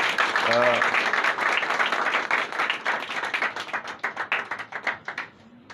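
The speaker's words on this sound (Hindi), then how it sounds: "ज़ोरदार तालियां होनी चाहिए तमाम" Applause and clapping from an audience at a school event on children's psychology and health, dense and steady at first, then thinning into scattered individual claps before fading, with a brief voice near the start.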